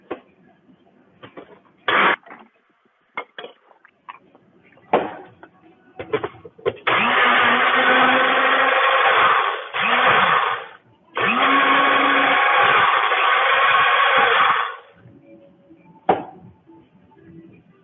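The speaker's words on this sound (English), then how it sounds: "Then I put it on the blender." A Ninja blender blends a drink in two long, loud, steady bursts separated by a short pause, with scattered clatter and knocks before and after.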